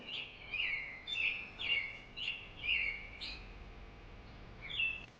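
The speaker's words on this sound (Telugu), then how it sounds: "ఆ అవ్వకి రోజు ఆకలితో పిలిచే పిచ్చుకలు శబ్దాలు గుర్తొచ్చాయి" Sparrows chirp in a run of about six bright, evenly spaced calls over the first three seconds, a pause, then one more call near the end, moderately close with no talking.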